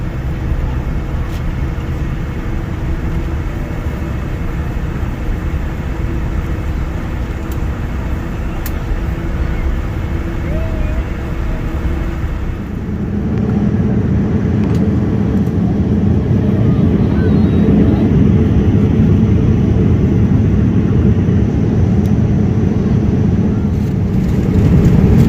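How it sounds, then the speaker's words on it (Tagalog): Inside an airliner cabin on a long-haul flight from the Philippines to Canada, jet engines hum steadily and then swell into a louder, deeper roar as the plane takes off, continuing loud to the end. "Take position for takeoff."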